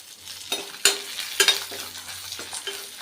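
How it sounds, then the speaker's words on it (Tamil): Urad dal, ginger and dried red chillies roast in a pan, with a soft continuous sizzle broken by several scraping stirs of a spoon against the metal. "கொஞ்சம் இந்த பருப்பு வந்து செவந்து வர வரைக்கும் நம்ம இதை வறுத்துக்கலாம்"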